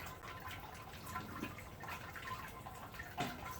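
Cold water sparge trickling and draining through a grain bed in a Robobrew Brewzilla, a steady soft wash of dripping, running water with a few brief louder splashes, no talking.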